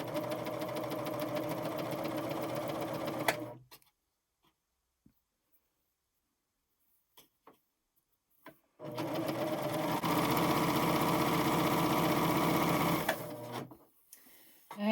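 An admire air 7000 sewing machine chain-stitching piping runs in two steady bursts of fast, even mechanical whirring and stitching, close and loud, separated by a quiet pause holding a few small clicks.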